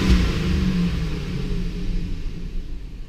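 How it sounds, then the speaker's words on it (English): A Chevy Silverado engine given a wide open throttle snap, a loud rumbling rev that swells at once, then settles and slowly falls away, heard close with no voices. "now we're going to do just a wide open throttle snap"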